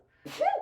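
A single short sneeze, a quick intake followed by a sharp nasal burst, close and fairly quiet.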